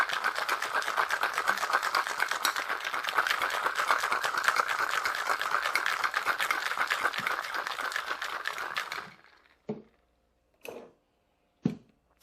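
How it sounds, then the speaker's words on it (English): Ice rattles hard inside a cocktail shaker during a tiki drink, a fast, loud, continuous churning for about nine seconds that stops abruptly, followed by a few sharp knocks and taps. "Give it a good shake"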